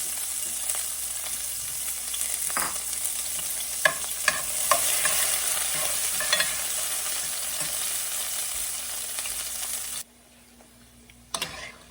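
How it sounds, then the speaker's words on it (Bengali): Cashew nuts fry in a little oil with a constant close sizzle and a few spatula taps, then the sound cuts off abruptly to near silence, followed by one short knock at the end. "এখন আমি যে কেশু বাদামগুলো আছে সেগুলো দিয়ে একটু হালকা তেল যেটা পছন্দ সেটাতে একটু ফ্রাই করে নেবেন"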